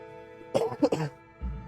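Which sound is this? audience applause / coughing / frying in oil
coughing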